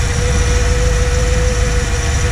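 A 1977 Dodge Power Wagon pickup truck engine idles low and steady, a constant rumbling drone with a faint whine, close by and uninterrupted.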